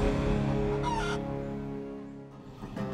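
Chickens on a farm cluck and squawk in a dense, close, fairly loud flock chorus, alone with no talking, fading slightly toward the end.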